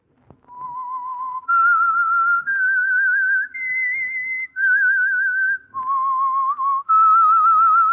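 Someone whistles the signal tune of The Whistler radio program, a clean, solo melody of about eight sustained notes rising and falling with slight vibrato, close and clear against silence.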